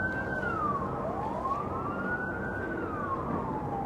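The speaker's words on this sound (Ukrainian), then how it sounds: "Швидка допомога." A wailing ambulance siren rises and falls slowly over steady traffic rumble, heard from a moderate distance outdoors.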